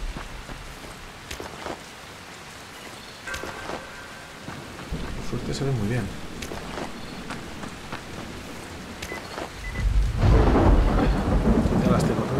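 In the video game Dying Light, steady rain patters while rolling thunder rumbles low and builds to a heavy, louder roll near the end; someone speaks briefly over the storm.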